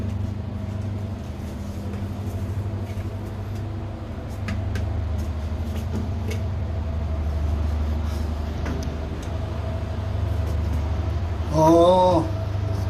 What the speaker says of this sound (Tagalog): Pero naririnig na natin yung ugong ng generator.